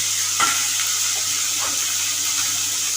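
Bottle gourd peel fries in a pan with a steady, close hiss of sizzling oil, broken by a couple of brief stirring scrapes.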